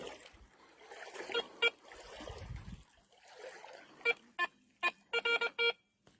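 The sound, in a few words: metal detector beeping when losing contact with the ground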